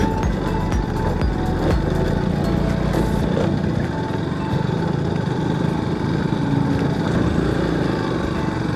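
A vehicle engine labours continuously while climbing a loose gravel slope, a loud, steady, rough drone with a rattly mechanical edge and no voices.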